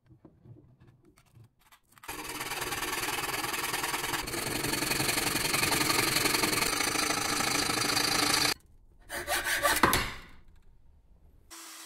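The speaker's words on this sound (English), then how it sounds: "So let's just put it in the vise, cut the sprue off, and hit it with a wire wheel." A wire wheel on a power tool cleans a freshly cast metal sign held in a vise, a harsh loud grinding whir that runs for about six seconds, stops, then returns in a shorter burst.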